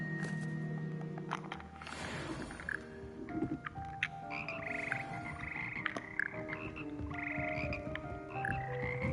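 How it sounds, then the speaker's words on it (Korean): A chorus of frogs croaks in Hogwarts Legacy, many overlapping throaty calls and higher trills layered continuously at moderate volume, steady throughout with no voices. "개구리 합창단."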